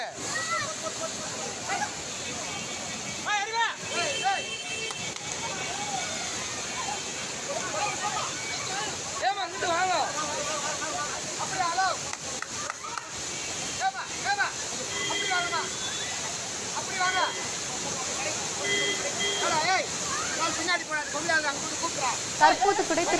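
Kutralam waterfall during a sudden flood, its steady broad roar of rushing water continuous throughout, with people talking and shouting over it.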